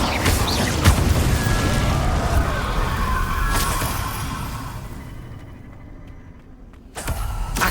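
Confringo blasting spells go off in Hogwarts Legacy during a magical duel, a continuous roar of loud booming explosions that thins out toward the end before a fresh sharp blast near the close.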